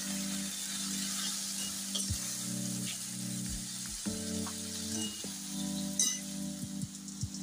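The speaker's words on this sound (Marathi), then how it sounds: "हलवून घेऊ।" Chopped spring onion and tomatoes frying in a pan, a steady close sizzle with irregular scrapes and clinks of a spoon stirring through the vegetables, no talking.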